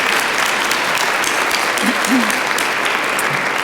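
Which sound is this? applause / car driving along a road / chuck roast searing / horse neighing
applause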